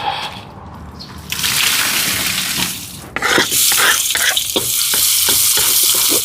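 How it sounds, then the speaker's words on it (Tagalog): Beef parboiling in a pot of boiling water to skim off the first scum, for a Filipino goto beef soup: a steady watery rush and bubbling, growing louder and busier midway, with no voices. "Hahalbusan ko lang po muna para maalis yung kanyang unang bula."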